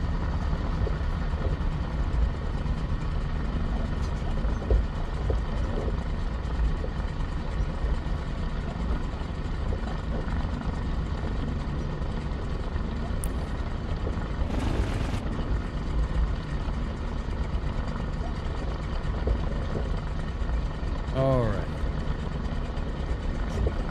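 Steady engine drone from a small tailwheel airplane during a high-speed taxi on its way to the Sun 'n Fun fly-in, constant and close inside the cabin, with a brief burst of noise midway and a voice talking.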